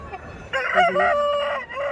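A single rooster crow rings out close by at a Sankranti festival in Bhimavaram, loud and drawn out over about a second, with faint background noise before it.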